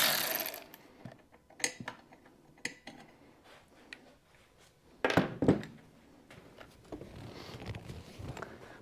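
Socket ratchet turning the 3/8 head bolt of a C6 Corvette seat installed in a C3 Corvette, worked through an access hole in the back: a run of quick mechanical clicks and thunks in short bursts, close and moderately loud, with no talk.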